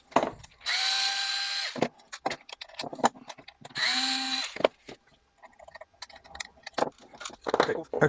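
Power drill backing screws out of a CDH exhaust muffler casing, two sustained whining bursts of the motor with clicks and handling noises between them, close up, with some talk.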